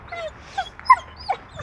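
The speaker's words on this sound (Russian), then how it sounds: "это ты скулишь" A pet dog whimpers at home, giving a string of thin, high whines and yelps that rise and fall over faint background noise, with no one talking.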